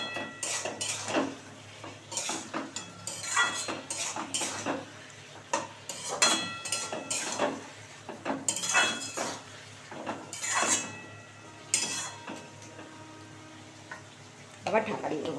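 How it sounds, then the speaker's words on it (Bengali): Rita fish and cabbage curry being stirred in a pan: repeated metallic scrapes and clinks of a spoon against the pan over a low sizzle, coming in uneven bursts with short pauses. "দিয়ে আবার নাড়াচাড়া দিয়ে আবার ঢাকা দিয়ে দেবো।"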